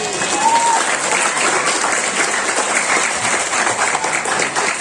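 Students at a high school anti-drug assembly clap steadily, a dense, even patter of many hands filling the hall at close range for the full stretch without a break.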